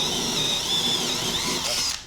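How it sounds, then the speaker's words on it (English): An electric drill bores a hole through a wooden table in a workshop shed, giving a steady, close, high-pitched whine that holds for about two seconds before cutting off. "We're going to drill a hole"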